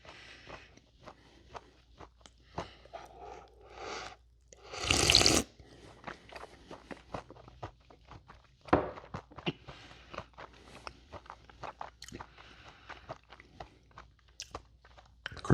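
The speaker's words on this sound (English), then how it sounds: "I'm having a hard time chewing them though." Crunchy chewing of crispy pizza rolls up close, with irregular bites and crunches scattered throughout and one louder burst of crunching partway through, no talking.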